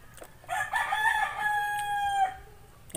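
A rooster crows once, loud and near, with a long drawn-out call over quiet background noise.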